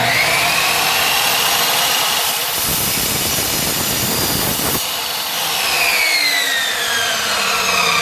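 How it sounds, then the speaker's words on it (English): A miter saw trims a 20-inch crossbow bolt, its motor whining loudly throughout with a denser grinding burst as the blade cuts through, close and steady for about eight seconds with no talk. "I'm going to use a miter saw and try to trim it up a little bit"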